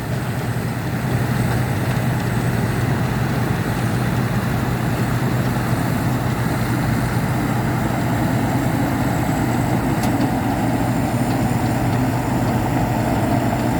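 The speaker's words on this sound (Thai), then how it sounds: "เร่งเครื่องเบาๆครับ คันนี้เครื่องมันใหญ่ครับ" A big old truck engine idles with a deep, steady rumble, revving only gently. The low throb stays close and constant throughout, with no voices over it.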